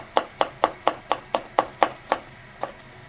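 A knife chops through red and green bell peppers on a cutting board, giving about ten sharp, evenly spaced strikes close up, with the last few slowing and spreading out.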